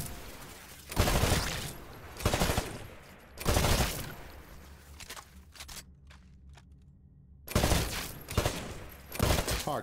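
A rifle fires repeatedly at targets on a shooting range in the Titanfall video game, loud close shots coming in spaced pairs and clusters, with a quiet gap before the last few rounds.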